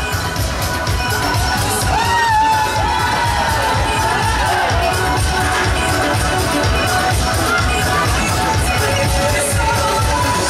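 Crowd cheering and children shouting on a Raupenbahn caterpillar fairground ride at a funfair in Krefeld-Gartenstadt, a dense and steady din of voices heard from the ground over ride noise.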